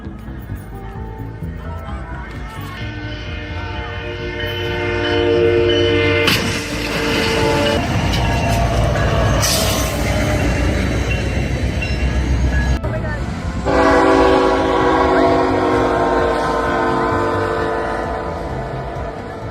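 A train rumbles past close to the tracks, sounding long, loud horn blasts that cut in and out over the heavy rolling noise of the rail cars, with a voice heard briefly.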